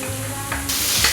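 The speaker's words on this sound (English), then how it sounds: "Stir fry everything together about 30 seconds to 1 minute and add diced peppers." Garlic, ginger, green onion, onion and peppers stir-fry in a wok, with a hissing sizzle that swells into a loud spray of frying partway through, alongside a faint low hum.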